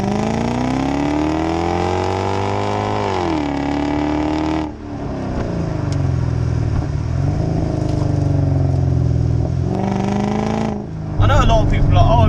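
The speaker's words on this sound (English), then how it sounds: "you still get that fantastic soundtrack of a V8 noise sat behind you" A deep Lexus GS430 V8 engine note rises and falls as the car accelerates, a steady rumbling drone with a brief drop midway, heard up close throughout.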